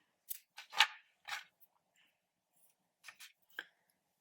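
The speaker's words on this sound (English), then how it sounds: "cut your white in the tail" Scissors snip white crochet yarn in a few close, quiet cuts: three quick snips, a pause, then two or three more, with silence between them.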